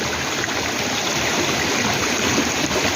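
Steady, dense rush of falling water at Twin Falls, a constant broadband roar with no breaks, close and loud throughout.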